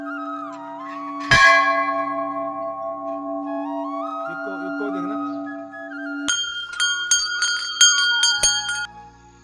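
Temple bells rung at a Ghantakaran Devta shrine on Yoga Day: a sharp metallic strike rings out with a long sustained hum, then a flurry of rapid overlapping clangs from several bells near the end, with a brief spoken remark.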